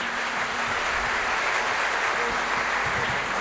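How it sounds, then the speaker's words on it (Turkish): A concert audience applauds a Turkish folk music choir, a thick, uninterrupted burst of clapping that fills the hall at an even level for several seconds. "Bir kez daha alkış alalım efendim."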